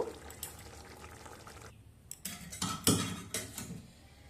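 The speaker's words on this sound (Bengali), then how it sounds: "এবার ঝোল একটা পাত্রে ঢেলে নেব" Rui fish curry is poured from a pan into a serving bowl, giving soft liquid splashing and pouring along with a few clinks of metal cookware and utensils, fairly quiet and close, with no talking.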